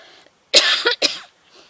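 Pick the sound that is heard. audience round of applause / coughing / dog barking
coughing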